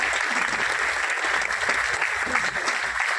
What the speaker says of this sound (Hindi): एक बार जोरदार ताली होनी चाहिए बच्चों की प्रोडक्ट के लिए।